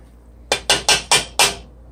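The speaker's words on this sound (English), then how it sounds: "sorry for knocking the cover of the pot" A metal pot lid knocked over while rasta pasta with shrimp and smoked salmon is being cooked clatters in five quick, sharp, close clanks in about a second, with no talk.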